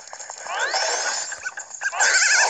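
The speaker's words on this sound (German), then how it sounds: "Ich glaube, der Hund hat auch keine Erziehung genossen." A dog in The Legend of Zelda: Majora's Mask 3D whimpers and yelps in quick, high, wavering cries that rise in a brief run and then repeat, fairly close with no talking.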